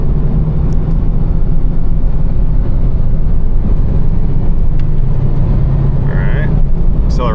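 A Chevrolet S-10 Blazer with a 4.3 V6 and 4x4 accelerates on smooth asphalt, heard from inside as a steady, loud low engine and road rumble that holds evenly throughout, with a faint chirp near the end.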